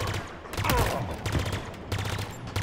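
Rapid bursts of weapon fire in the game Halo Infinite campaign, clustered shots and impacts in quick succession at close range, with a voice briefly audible among them.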